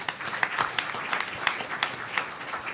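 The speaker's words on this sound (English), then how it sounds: "And you ought to give that a round of applause." Sparse applause from a modest audience at an Omega Psi Phi fraternity gathering, scattered claps with a faint murmur rising and falling for a few seconds.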